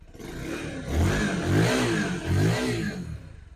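A SYM NHX 125 motorcycle engine fires up and runs close by, rising in a few throaty revving swells before settling back, with a full, steady mechanical tone and no voices over it.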